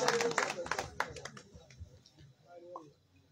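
Applause at a Pothwari poetry gathering starts as a dense burst of clapping close by, then thins into scattered claps and fades away over a few seconds, with a voice speaking briefly.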